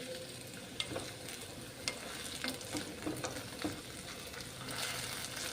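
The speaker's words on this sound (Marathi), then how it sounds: "आपण हे सगळं साहित्य एक पाच मिनिट आणखी व्यवस्थित तांबूस रंगाचं होईपर्यंत भाजून घेणार आहोत" Mixed vegetable ingredients for bhogi bhaji roast in a pan over a low gas flame, a soft steady sizzle broken by several light spoon scrapes and taps, near and fairly quiet.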